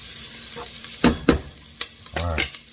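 Ingredients for pizza fries stirred in a pan while frying, giving a close, scraping stir of several strokes over a low sizzle, with no voices.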